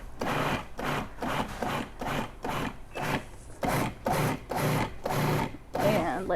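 An electric kitchen hand mixer mashes cooked black beans into a chunky burger mixture, running in repeated short bursts of roughly half a second with brief pauses, close and fairly loud.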